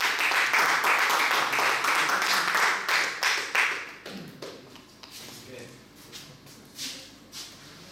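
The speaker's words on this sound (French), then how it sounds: "Monsieur Ouled, applaudissez encore." An audience claps loudly for a few seconds, then the applause thins out into scattered claps fading away.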